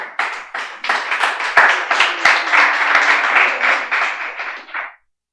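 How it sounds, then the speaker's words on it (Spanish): Church congregation on its feet giving the Lord a loud round of applause, with dense, close clapping that builds, holds, then stops abruptly. "dale un fuerte aplauso al Señor"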